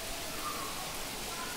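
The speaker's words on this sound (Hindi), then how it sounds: "यहाँ बारिश हो रही है" Steady, even morning rain hisses continuously at Geeta Bhawan, a close, uniform wash of falling water with no breaks.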